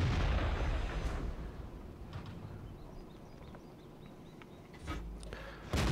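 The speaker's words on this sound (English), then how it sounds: "And artillery finishes him off." Artillery fire hits an M2 medium tank in the video game World of Tanks, a heavy booming blast that opens loud and rolls off, followed by quieter rumble and another sharp impact near the end.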